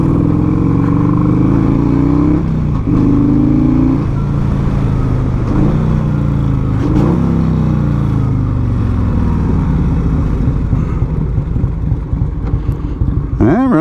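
A 1984 Harley-Davidson FLT Tour Glide motorcycle engine runs loud and close, rising in a few revs and then settling back to a steady rumble, with no speech over it.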